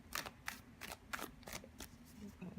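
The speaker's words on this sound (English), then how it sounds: "finish shuffling here" Tarot cards being shuffled by hand in a series of quick, crisp riffling bursts, fairly close and quiet, with no talking over them.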